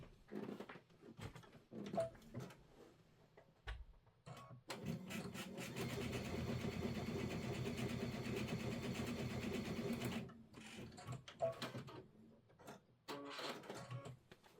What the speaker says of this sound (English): I'm going to sew this together and we're done